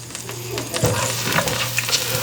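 Very cold butter melting in a hot pan, a steady close sizzle with faint crackles and a stir or two, a low hum beneath, no voices.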